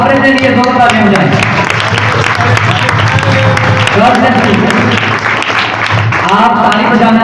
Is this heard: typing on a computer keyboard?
no